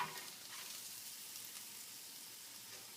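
Garlic, lemongrass and small red chilies frying in a pan, a steady bright sizzle with faint stirring, close and continuous, with no talk.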